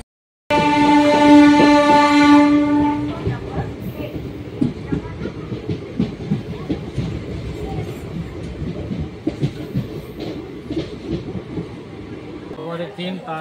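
Katpadi to Bankura express 22604 running on rails: a loud, steady rolling rumble with rhythmic clickety-clack, and a sustained tonal whine over the first few seconds that then drops away.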